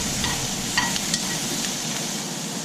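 Mushrooms and onions cooking down in a pan, a constant close sizzle with a few light clicks of a utensil, moderately loud and without talk.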